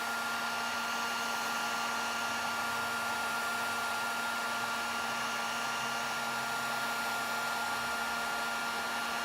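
Heat gun blowing steadily as it shrinks sealant-lined heat shrink tubing onto copper wire during van wiring, a constant loud whooshing hum with no pauses and no voices.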